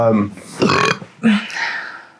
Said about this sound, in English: You proud of that burp?